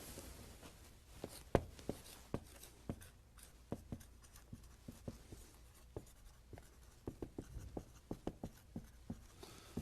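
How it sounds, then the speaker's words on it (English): Pen or pencil writing on paper, close and alone, with scratchy strokes and frequent sharp taps at an uneven rhythm as someone jots down answers to a series of questions. "I'd like you to write down the answers."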